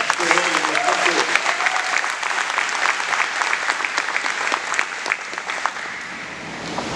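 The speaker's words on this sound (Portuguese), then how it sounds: "Dá uma salva de palmas para a palavra de Deus" A congregation at a church service applauds for the word of God, a dense patter of many hands over about seven seconds with a voice speaking over the start, gradually thinning toward the end.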